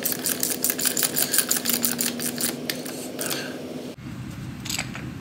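A socket wrench tightens the drive wheel nut on a 1954 Clark forklift, its rapid ratcheting clicks running close and steady for about four seconds before cutting to quieter workshop ambience.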